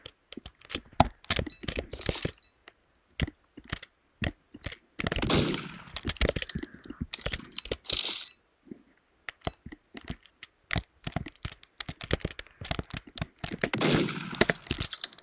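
Rapid bursts of gunfire from the Roblox game Murder Mystery 2 crackle in quick, uneven volleys with short pauses, sharp and loud throughout with no voice over them.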